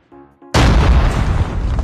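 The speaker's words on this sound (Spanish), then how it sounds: "Aquí me doy cuenta que no son granadas, que son cohetes." A rocket explosion in the Call of Duty Mobile battle royale game lands as a sudden loud boom with a sustained roaring blast. Faint game sounds come before it.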